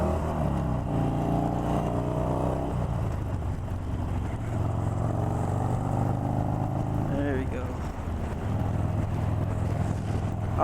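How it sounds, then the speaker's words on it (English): Steady broadband wind rush on a Harley-Davidson Sportster ridden without a fairing, a continuous roar mixed with low engine drone throughout, with brief talk over it. "you guys are probably hearing the wind noise"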